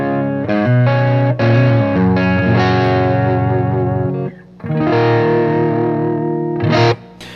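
Electric guitar played with the volume knob rolled back for a clean yet warm, full tone, sustained chords and notes ringing with slight effects coloring, continuous and close with a brief dip midway, no voices.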